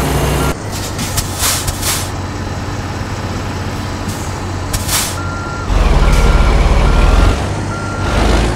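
Truck reversing alarm in American Truck Simulator, a steady repeating beep sounding over the continuous drone of the truck's engine, with occasional louder rushes of air.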